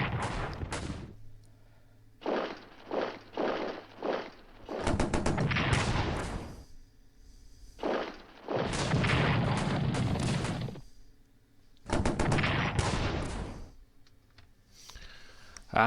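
Gunfire and artillery from the World War I strategy game Strategic Command, with bursts of shots and booming blasts recurring in uneven clusters through the clip, loud and alone without talk.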